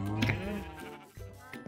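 Sheep in Minecraft bleat in a couple of close, wavering cries, clear and alone with no talk over them.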